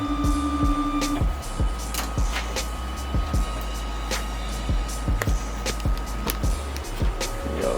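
A test strip machine runs after start is pressed, giving a steady mechanical whir with repeated clicks and ticks throughout, near and fairly loud.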